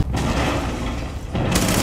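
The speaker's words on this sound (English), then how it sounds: "Luckily, I'm really accurate with my SMG 11." SMG-11 submachine gun firing in Rainbow Six Siege, a rapid dense burst of loud shots lasting over a second, then a brief pause before another burst starts.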